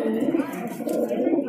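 A fighting-breed pigeon at a pigeon sale near Jama Masjid in Old Delhi coos steadily and low, close by, with a murmur of voices in the background.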